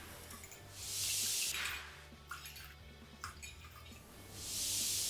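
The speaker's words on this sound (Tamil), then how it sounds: "இப்போ இதில் நம்ம ஒரு 3 கப்பு தண்ணியை சேர்த்துடலாம்." Water pours into a clay pot in two bright, splashy bursts, one early and one at the end, with quieter clinking and trickling in between.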